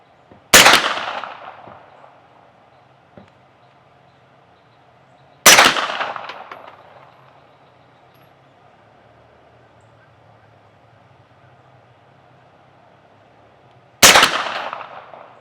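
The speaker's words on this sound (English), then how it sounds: "Let me take a couple of shots and see if it jams up or not." Three sharp, loud reports from an AR9 pistol-caliber carbine fired at steel targets outdoors, each crack spaced several seconds apart and fading into a short echoing tail.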